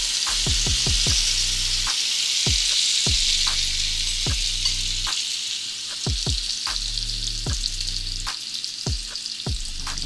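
French toast lollipops frying in a hot pan, a loud continuous sizzle broken by repeated low thumps and clatters from handling, no talk.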